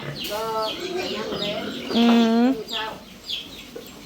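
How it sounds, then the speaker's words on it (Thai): Breeder hens cluck repeatedly while feeding on a farm, with close, rhythmic calls and one longer drawn-out squawk in the middle, while a man murmurs briefly. "แม่พันธุ์ไก่กินบ่"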